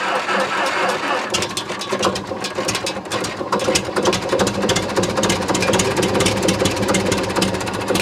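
The engine of a 1941 IH TD-14 dozer, a wartime crawler tractor left abandoned for 25 years, is cranked over and catches, then settles into a loud, steady, rapid chugging with dense mechanical clatter throughout.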